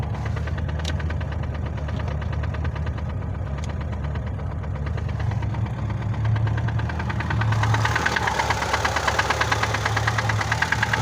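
VAZ 2106 car engine idling nearby with a steady rumbling hum and an even, rapid ticking knock that grows slightly louder toward the end, with no talk over it.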